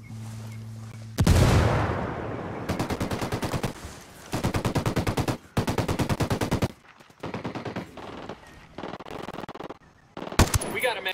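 Automatic gunfire in the Ghost Recon Wildlands video game rattles out in several rapid, loud bursts separated by brief pauses, opening with a heavy boom.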